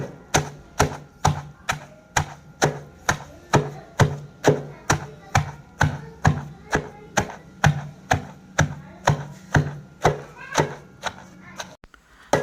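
Dried anchovies, puyu fish and cassava leaves for sambal are pounded in a mortar, a steady run of about two dozen sharp thuds at a regular beat, close and alone.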